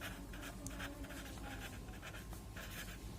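Numbers written by hand with a pen on paper while working a math exercise; soft, close scratching strokes in short bursts, quiet and steady, with no voices.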